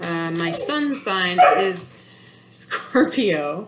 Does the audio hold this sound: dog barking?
yes